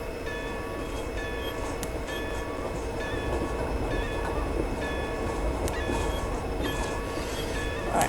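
A train running in the Train and Rail Yard Simulator video game, a steady rumbling rail drone with faint tonal whine, continuous and even at cruising speed, with no talk.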